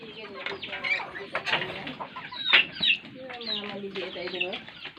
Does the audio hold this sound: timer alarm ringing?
no